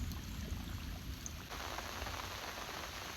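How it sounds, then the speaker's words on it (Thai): Steady rain pours over a farm at dawn under fog, a faint, even hiss with scattered drips and no voices. "ฝนห้ำตลอดพี่น้องเอ้ย"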